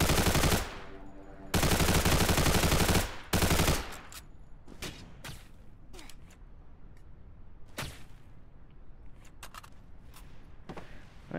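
9mm gunfire in a video game: two long, loud sustained bursts of rapid automatic fire, then a short burst, followed by scattered single shots and clicks.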